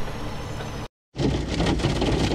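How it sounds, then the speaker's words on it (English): Heavy hail drums on a parked truck in a dense, loud, continuous roar that cuts out briefly and then resumes even harder. "It is hailing so hard."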